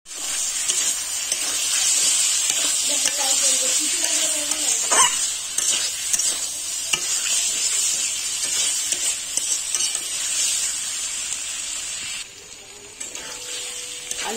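Potatoes and pointed gourd stir-frying in oil in a pan, a steady loud sizzle with scraping stirs of a spatula, a short tonal sound early on and a brief drop in the frying near the end.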